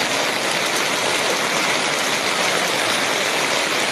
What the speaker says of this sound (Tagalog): Tapos wala pang tigil ang ulan.